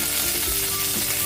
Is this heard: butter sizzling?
yes